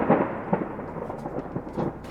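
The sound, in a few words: thunder during a storm at sea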